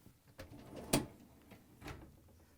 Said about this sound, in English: pull out the upper dish rack